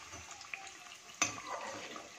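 Stuffed matar kachori frying slowly in oil over a low flame, a quiet, even bubbling hiss with a single sharp clink partway through, no talk.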